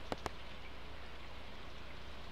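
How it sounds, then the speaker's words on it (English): Rain in the farming video game Stardew Valley, a soft, steady patter of falling drops with two brief sharp taps near the start and no voices. "And it's raining again."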